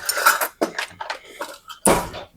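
A small fork briskly whisks coleslaw dressing in a bowl, making quick clinking and scraping strokes up close, ending with a louder clatter.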